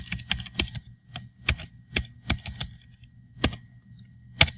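Commands are typed on a computer keyboard for camera-toggle controls, sharp separate key clicks in an uneven rhythm with short pauses between bursts, close and clear with no talking.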